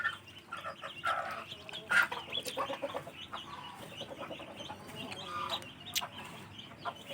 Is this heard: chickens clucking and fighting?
yes